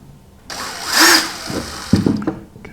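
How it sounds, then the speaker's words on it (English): A power drill whines briefly, rising to a high-pitched spin for about a second before winding down, followed by a few clunks and rattles. "Just have to drill some holes."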